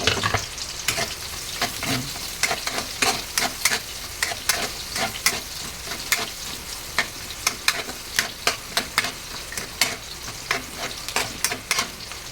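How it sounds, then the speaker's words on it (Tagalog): Chilies saute with garlic in a pan for pancit, a continuous frying sizzle broken by frequent sharp scraping clicks of a spatula stirring in an irregular rhythm. "Ating sili, isama na rin natin sa paggigisa."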